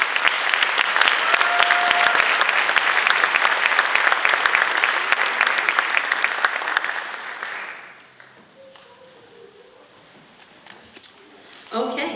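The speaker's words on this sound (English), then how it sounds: "a round of applause to you." A loud, sustained round of applause fills a senior awards night audience, then fades out as a voice begins speaking over quieter room noise.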